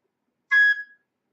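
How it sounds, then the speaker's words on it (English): A single short, sharp whistle blast marking the start of a roller derby jam, about half a second long, clear and isolated against silence. "The next whistle you're going to hear is the jam starting whistle"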